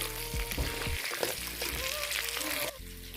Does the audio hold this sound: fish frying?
yes